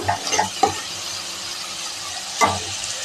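Brinjal (eggplant) curry sizzles in a pan while a utensil stirs it, with a few quick scraping strokes at the start and another near the end over a continuous soft frying hiss.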